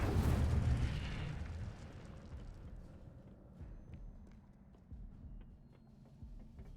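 A fire spell is cast in the Hogwarts Legacy video game, opening with a loud, roaring burst of flame that fades over a few seconds into a low rumbling crackle, with small scattered pops continuing after it.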